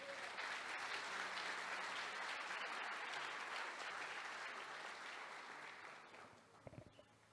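A church congregation claps together in a sustained, full burst of applause that fills the room, slowly tapering off near the end.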